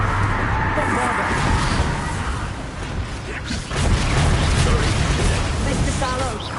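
Bombarda spell explosions in the Hogwarts Legacy video game, a rumbling blast of booms and debris that swells, dips briefly, then surges again, with a voice talking over the game sound.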